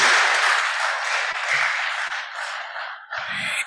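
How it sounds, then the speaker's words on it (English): A conference audience at a Nigerian legislative stakeholders event applauds in steady, dense clapping that holds loud throughout and thins briefly near the end. "Please, we can do better than that with our applause."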